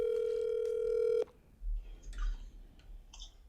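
A steady single telephone tone holds for just over a second and cuts off with a click, followed by faint clicks and soft rustling as a call is picked up.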